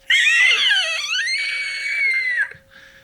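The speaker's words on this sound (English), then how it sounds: "In that moment, you hear a cacophony of screams." Several shrill screams blend into one chaotic burst, piercing and close, peaking at first and then sustained before cutting off abruptly, followed by a faint trailing cry, for a horror tabletop game scene.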